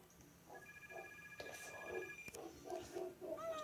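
A telephone ringtone in the Pizza Factory Tycoon video game, steady electronic tones sounding at a moderate level over a murmuring game background, no speech over it.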